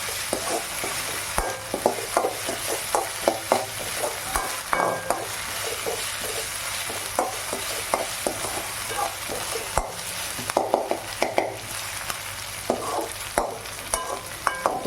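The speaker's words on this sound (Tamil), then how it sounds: "இதை வந்து நல்லா வதக்கி வைக்கணும்." Masala for crab gravy sautéed in a pan: a soft, continuous sizzle broken by irregular scraping and clinking strokes of a spatula against the metal, close and fairly quiet, with no talking.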